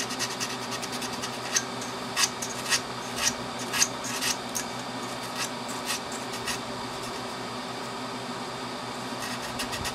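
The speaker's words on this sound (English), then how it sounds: "I'm just going to sand these existing leads, get some of the oxidization off." Sandpaper rubbed on oxidized capacitor leads on a Tempest power supply board, a close, steady run of short rasping strokes in an even back-and-forth rhythm.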